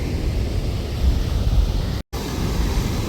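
Yosemite Falls roars as a dense, continuous rush of falling water heard from an overlook, loud and steady, with wind buffeting the microphone and one short dropout.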